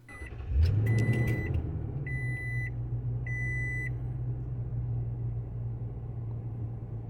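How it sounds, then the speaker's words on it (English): A 2021 Toyota Tundra 4x4 pickup starts up, heard from inside the cab: a quick starter whir swells into a steady low idle hum while a chime beeps three times in evenly spaced pulses. "Here's how the truck sounds when you start it up from inside."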